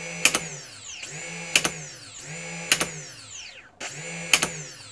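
Brushless flywheels of an ultrasonic foam dart blaster spin up again and again, each time a rising electric whine that sweeps and fades, with sharp mechanical clicks at the start of every cycle and no voices.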